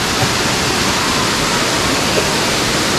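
Dalitiwan waterfall in Majayjay, Laguna pours in a loud, constant, close rush of falling water, a dense unbroken roar with no voices.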